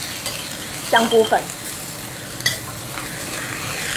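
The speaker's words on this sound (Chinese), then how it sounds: "这个叫蚝油炒" Vegetables are stir-fried with oyster sauce in a wok at home, giving a steady sizzle with a few sharp clanks of the spatula, while someone briefly speaks over the cooking.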